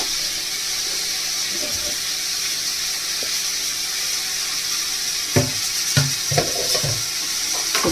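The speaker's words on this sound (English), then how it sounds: "let me just saute this a little" Onions sautéing with salt in a pan, a constant close hiss of frying broken near the end by a few spatula scrapes and knocks.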